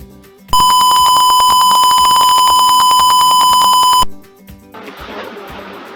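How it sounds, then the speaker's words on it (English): A loud, steady electronic beep tone from a piezo buzzer in an engineering course project sounds continuously for a few seconds, then cuts off, leaving a quieter hiss. "the piezo buzzer will start buzzing and we can see the LED light"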